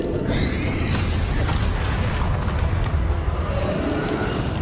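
Explosive booms from the Bombarda blasting spell in the wizarding video game Hogwarts Legacy, loud and dense throughout amid a busy roar of game combat effects.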